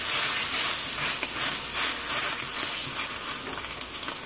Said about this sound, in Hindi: ऑयल गर्म हो चुका है, अब मैं इसके अंदर जो हमने कबाब बनाए हुए थे वो डालेंगे।